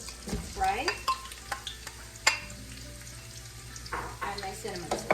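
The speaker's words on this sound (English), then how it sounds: "So my oil is hot now. What I'll do, I'll add in my onions to fry" Onions dropped into hot oil for a duck curry, sizzling and crackling with scraping stirs from a utensil against the pot, close and moderately loud, with intermittent clinks.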